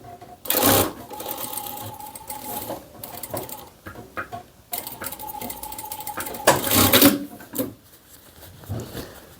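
A sewing machine stitches a dart on a fabric tote bag in short bursts of rapid mechanical clatter, separated by pauses with light handling noises, close and fairly loud.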